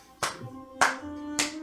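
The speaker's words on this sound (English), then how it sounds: "you hear a clap" Three sharp, separate hand claps spaced about half a second apart, close and moderately loud, each decaying quickly over a faint background hum.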